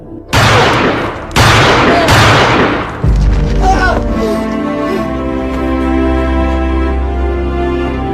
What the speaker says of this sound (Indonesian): terdengar suara tembakan